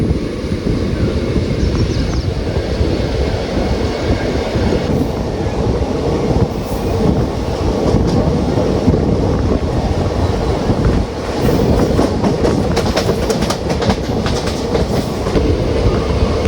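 A train running at speed on the main line after leaving a station near Chalakudy, between Ernakulam and Guruvayur in Kerala, a loud continuous rumble with rhythmic clickety-clack of wheels over rail joints and wind rush, no talking.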